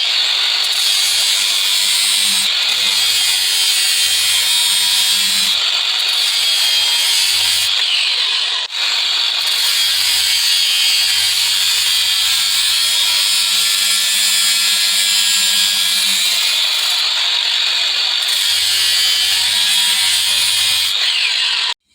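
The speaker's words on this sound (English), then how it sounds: "Typically cope all my crown with the grinder." Angle grinder coping crown molding, a continuous loud whine with grinding through the wood that runs almost unbroken for over twenty seconds, with only brief dips in intensity.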